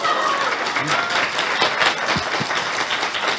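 An audience applauds steadily throughout, a dense wash of many hands clapping at moderate loudness with no pauses, a few sharper individual claps standing out near the end.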